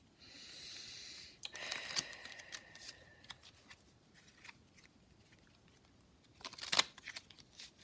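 Tarot cards being shuffled by hand, with a steady riffling burst early on, a few soft card slaps and handling noises, and a sharper flurry near the end, close and fairly quiet.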